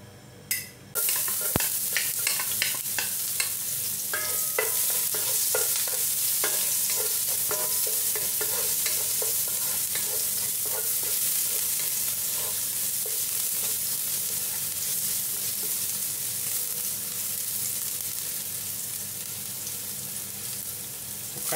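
Garlic fries in oil in a pan with a steady, bright sizzle and repeated scraping stir clicks. It stays loud and close for the whole stretch, with no talking.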